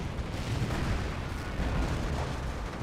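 A damaged Stu tank fires amid a Company of Heroes 1 battle: deep, booming blasts blend into a continuous heavy rumble of combat that stays loud and dense throughout.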